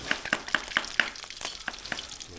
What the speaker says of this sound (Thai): กระทะนี่กระทะเตาถ่านทอดปลา